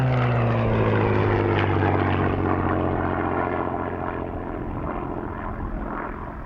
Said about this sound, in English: The next aircraft to display is the 2-seater Grace Spitfire, another Mark IX variant.